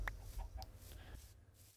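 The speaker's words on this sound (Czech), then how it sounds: "jsou tu slepice. Právě vyplodila vajíčko podle zvuku." A Minecraft chicken clucks after laying an egg, a few faint, short clucks in quick succession against a low background hum.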